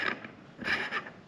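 A T-ring adapter with a Canon EF camera mount is twisted off a Celestron Regal M2 100mm ED spotting scope, giving a few short, close mechanical scrapes and clicks without speech.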